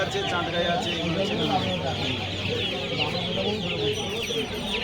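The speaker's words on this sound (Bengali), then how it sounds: "দেখুন একবার মুরগিগুলো" A crowd of chickens clucks continuously and fairly loudly, overlapping calls filling the whole stretch with steady farmyard chatter.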